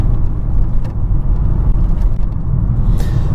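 An Audi 80 drives along a road, its engine and tyres giving a loud, steady low rumble with road noise from inside the cabin, continuous throughout with no talking.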